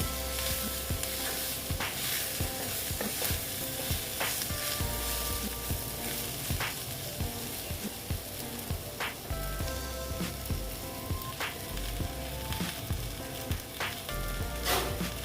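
Taro stolons (kochur loti) frying and being stirred in a pan, a steady dense sizzle with repeated scraping and clinking strokes of the spatula throughout, fairly loud and close with no talk.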